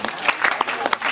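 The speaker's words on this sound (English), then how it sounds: "Give Andre, give Jack a round of" Short burst of audience applause and clapping after a magic yo-yo trick, with scattered sharp claps over about a second and some voices mixed in.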